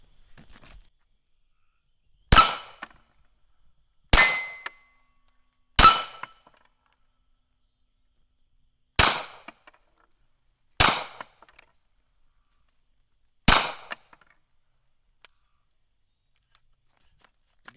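Six loud, sharp gunshots from a Beretta Cx4 Storm carbine firing cheap Russian rounds, fired singly at uneven intervals of about two to three seconds, each with a brief decaying ring and silence between.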